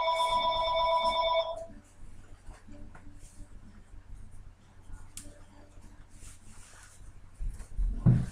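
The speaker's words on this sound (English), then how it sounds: "The phone is ringing." A telephone rings with a bright electronic tone for about a second at the start, then cuts off, leaving quiet room sounds with small taps and a low thump near the end.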